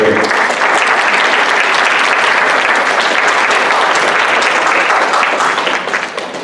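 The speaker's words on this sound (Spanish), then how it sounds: "Dale un aplauso al Señor si estás aprendiendo." Church congregation breaks into dense, steady applause that fills the room at full strength and tapers slightly at the close, with no talking over it.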